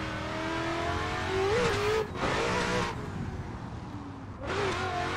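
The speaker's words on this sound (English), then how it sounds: "Pump that e-brake to get the car sideways up this hill" Ford RTR drift car, Adam LZ's build, sliding sideways uphill on an e-brake pull at Lime Rock Park, its engine revving hard in loud sustained bursts with pitch swings and tire noise, easing off briefly between pulls.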